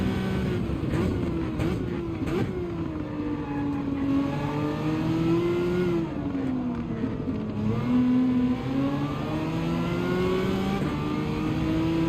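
A Citroen race car in Gran Turismo 7 on Trial Mountain reverse accelerates hard, its engine note climbing and shifting through gears in a loud, continuous whine with other cars audible around it.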